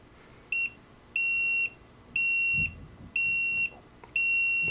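A Hioki DT4252 multimeter emits a series of five shrill continuity-test beeps, each roughly half a second long and evenly spaced, sounding clear and close against faint background noise.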